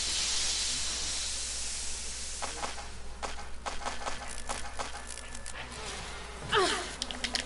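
Bees buzzing in a Resident Evil game beehive area, a steady insect drone joined by bursts of spray hissing, with a louder hiss surge near the end.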